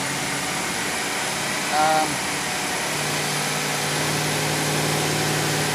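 A car engine runs steadily under light throttle at about 2,500 rpm, lightly pinging under load, as a continuous even drone with a faint tone rising partway through.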